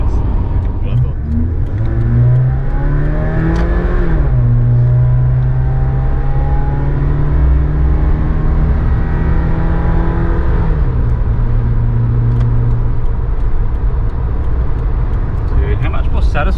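A Suzuki Jimny fitted with a big-block engine accelerates hard on a road test, its deep engine note rising and dropping through the gears, loud and close inside the cabin with talking over it.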